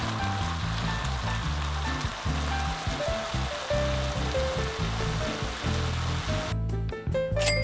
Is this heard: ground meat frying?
yes